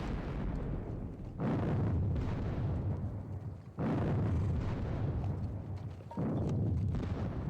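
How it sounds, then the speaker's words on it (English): Booming Napoleonic cannon fire in a wargame depicting the meeting engagement at Valmy, heavy rumbling blasts recurring roughly every two to three seconds, loud and continuous with rolling low-end decay between salvos. "So far, the cannon fire"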